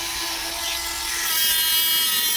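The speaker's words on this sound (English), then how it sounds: "That capillary tube, I can't cut it with a wire cutter, so we're going to use the Dremel." A Dremel rotary tool cuts through a capillary tube on a 1:20 scale hydroplane wood kit, giving a close, continuous high-pitched whine that rises in pitch and loudness partway through.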